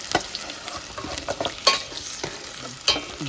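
Garlic, onion and ginger sauté in a hot pan, frying loudly up close, with repeated scraping and clattering stirs over the sizzle and no talk.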